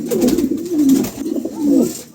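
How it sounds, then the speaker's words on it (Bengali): Two soft, throaty pigeon coos rise and fall in a slow rhythm, close by, with faint background noise in between. "খুবই চমৎকার এক জোড়া কবুতর"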